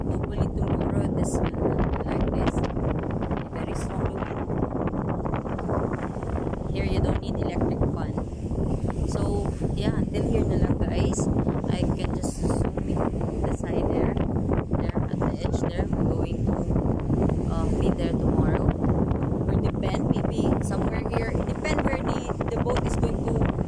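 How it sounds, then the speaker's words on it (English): Strong wind at Rogodo Port in Pinamalayan buffets the microphone in a continuous loud roar for the whole stretch, with a voice speaking faintly beneath it. "Really very strong the wind."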